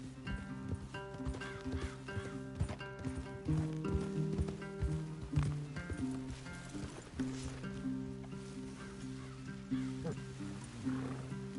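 Horses in the Red Dead Redemption 2 video game, with hoof clip-clop and an occasional whinny in a wild outdoor setting under a steady game soundscape, while a voice speaks.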